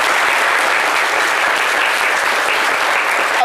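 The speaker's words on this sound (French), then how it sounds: "Voici qui mérite de très chers applaudissements," A studio audience claps steadily in dense, even applause throughout, loud and sustained with no pauses.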